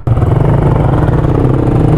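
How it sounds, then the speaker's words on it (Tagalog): Suzuki Raider 150 motorcycle engine idling close by with a steady, loud mechanical rumble and light clatter that starts abruptly and holds even throughout. "Oh, Rider 150. Mga gustong kong motor."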